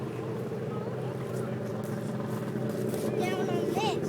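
A stand-up jet ski circles on open water, its engine giving a steady, moderately loud drone with slight rises in pitch, while people talk over it throughout.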